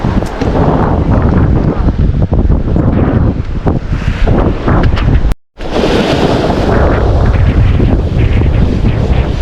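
Strong wind buffets the microphone in a loud, continuous roar while fishing from a shoreline, with waves and open water noise underneath and a brief dropout midway.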